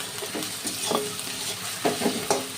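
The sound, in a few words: stirring and frying spices with green chillies in pan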